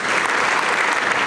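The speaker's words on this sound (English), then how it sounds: "let's do a round of applause for everybody" An audience at a neighborhood association meeting breaks into applause, a brief, loud, dense burst of clapping from a room full of people.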